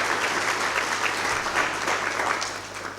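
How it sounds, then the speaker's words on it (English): An audience at a youth entrepreneurship and financial inclusion symposium applauds, a thick, steady wash of many hands clapping at once, sustained at even loudness without pause. "Let's give the Limpopo Economic Development Agency a round of applause."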